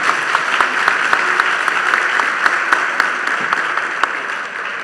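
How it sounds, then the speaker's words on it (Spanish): A seated audience at a panel discussion on Caribbean energy claps together in steady applause, dense and fairly close, with individual sharp claps standing out before it tapers slightly at the end. "Aplauso."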